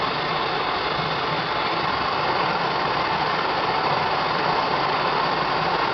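Brazing torch flame turned nearly to full, heating copper pipe, brass fitting, filler rod and borax flux, giving a steady close broadband roar that holds unchanged throughout.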